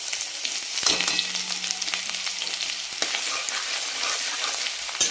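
Ginger-garlic paste frying in two spoons of hot oil in a kadhai for a village-style dry mutton dish, giving a steady close crackling sizzle with a sharp burst as it goes in and a few spoon stirs.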